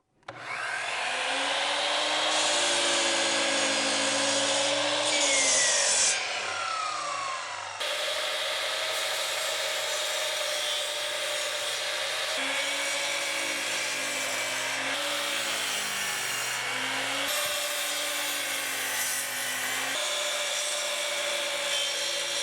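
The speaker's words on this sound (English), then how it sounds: "I'm using a 12-inch miter saw to do my cuts" A 12-inch miter saw runs with a loud, steady motor whine and blade hum while cutting 1x2 wood boards, the pitch dipping as the blade bites through each piece, continuous for over twenty seconds with brief shifts between cuts.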